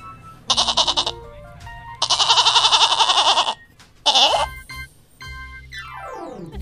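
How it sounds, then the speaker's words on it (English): A goat bleats in long wavering cries, two extended calls and a short one, loud and near, with music playing underneath. "G for goat"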